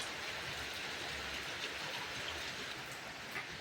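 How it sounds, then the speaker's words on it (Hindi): Heavy monsoon rain pours down steadily in the hills of Pauri, a dense, even rushing hiss with no breaks and no voices. "तो इतनी बारिश हो रही है कि बहुत तेज।"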